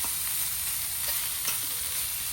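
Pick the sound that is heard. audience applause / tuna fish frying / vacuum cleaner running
tuna fish frying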